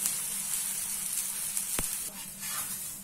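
A sprouted green gram dosa frying on a hot pan gives a steady close sizzle, with one brief sharp crackle partway through and no one talking.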